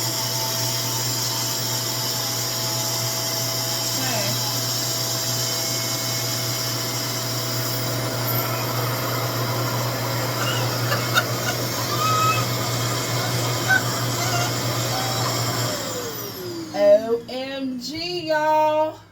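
A RevAir hair dryer runs on low heat on textured, coily 4C hair, giving a steady loud suction whir and hum that cuts off near the end. A voice speaks briefly just afterward.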